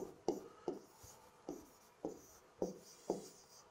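Formulas written by hand, making six short, evenly spaced scratchy strokes that are quiet and close, with no talking.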